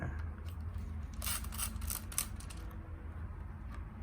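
A quick run of mechanical clicks and whirring from the shutter and advance of a Pentax PC35 AF film camera, close and fairly faint over low background hum.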